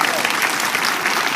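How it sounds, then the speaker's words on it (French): A rally crowd at a political homecoming in Côte d'Ivoire bursts into dense, sustained applause, the clapping loud and steady throughout with a faint wash of crowd noise beneath. "Les voici, je voudrais que vous les applaudissiez."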